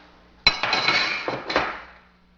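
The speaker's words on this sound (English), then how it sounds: "you can push this in and remove the recoil spring." Metal parts of an AK-47 clink as its recoil spring is pushed in and removed: one sharp close clank, then a few ringing metallic clinks that fade over about two seconds, with no talking.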